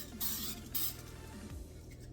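Old cooking oil is sprayed from a can onto a pie dish in a kitchen, making two short, quiet hissing bursts close by over a low background hum.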